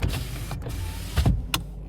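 Electric windows on a 2016 Nissan Navara 2.3 dCi pickup whirring up and down inside the cab, a steady close motor hum ending with a couple of short clunks as the glass seats.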